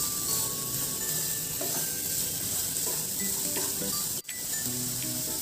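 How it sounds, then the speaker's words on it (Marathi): Ingredients sautéing in a pan for a monsoon breakfast dish, a steady close hiss of sizzling oil with occasional faint stirring clinks, no talk. "साधारण आपल्याला हे 2 ते 3 मिनिटे छान परतून घ्यायचे।"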